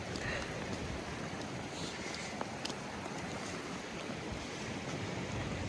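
Continuous rushing water roars steadily as a waterfall pours into the sea at a beach in Wales, with a faint breezy noise and no voices.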